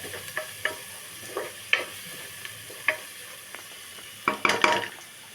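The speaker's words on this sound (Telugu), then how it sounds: "కొంచెం పసుపు, కొంచెం కారం వేసుకొని కొంచెం వేయించిన తర్వాత" Spinach and potato frying in a pan with turmeric and chili: a soft sizzle under scattered spoon stirs and clinks against the pan, close by, with a busier flurry of stirring near the end and no talking.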